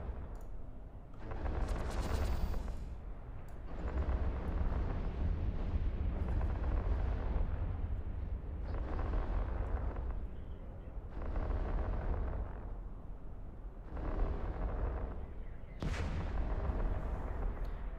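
Repeated heavy blasts of laser fire and explosions from a ship battle in the space game EVE Online, loud booming bursts recurring every couple of seconds with crackling high bursts between.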